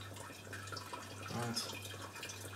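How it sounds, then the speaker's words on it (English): Hot water poured gently and slowly over a grain bag during brew-in-a-bag homebrewing, a steady soft trickle and splash under a brief spoken word. "we want to pour that gently and slowly over"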